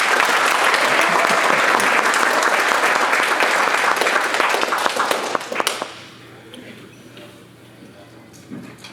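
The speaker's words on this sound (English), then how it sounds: "please put your hands together" Audience applause welcoming a speaker onto the stage, a dense sustained round of clapping that fades out after several seconds, leaving quiet room noise with a few stray claps.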